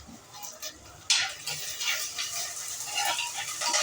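Onions and garlic frying in a pan for Telangana-style chapal pulusu, a soft steady sizzle broken by a sharp louder burst of hissing and scraping stirs partway through, with no talking.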